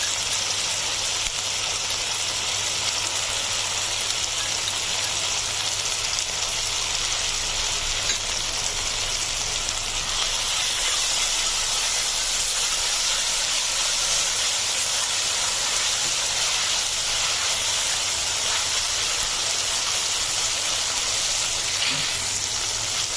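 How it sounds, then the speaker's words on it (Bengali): Ginger garlic paste frying in oil with browned onions, a steady broad sizzle and hiss that holds at an even level throughout, close to the pan, with no voices. "আদা এবং রসুনটা আমি একটু ভেজে নেব যতক্ষণ পর্যন্ত কাঁচা গন্ধটা না যায়"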